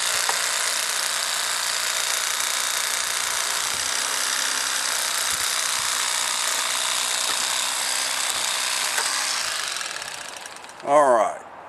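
An electric Bubba fillet knife separates a channel catfish fillet from the skin, a steady buzzing motor whine running close for about ten seconds, then a brief louder clatter at the end.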